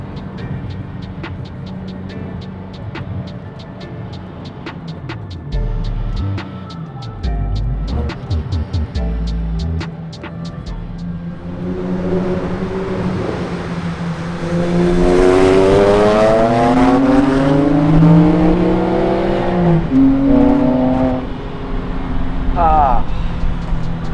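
A Porsche 996 making 412 hp on a track lap, idling at first, then revving hard with rising and falling engine tones and shifts, loud and close, wind rush in the later part.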